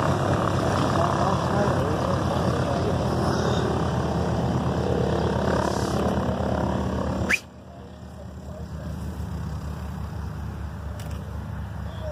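A propeller plane taxiing drones steadily nearby for several seconds, then the engine note drops abruptly to a quieter, lower hum.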